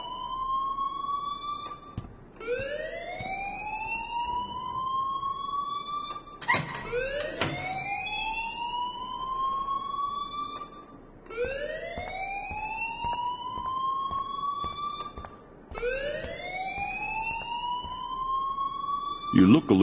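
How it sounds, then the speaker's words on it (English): A rising, wailing electronic alarm repeats in long sweeping cycles in a Life is Strange game scene, loud and steady, with short bursts of other noise between the sweeps. "please turn off that alarm"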